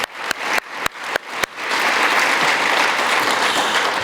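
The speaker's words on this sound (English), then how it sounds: "I just want to give the MCs, performers, another big round of applause." A crowd at a 2020 Dr. Martin Luther King community event claps, starting with a few sharp separate claps, then swelling into dense, sustained applause that fills the room.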